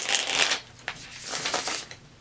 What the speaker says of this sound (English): let's go ahead and let's shuffle this up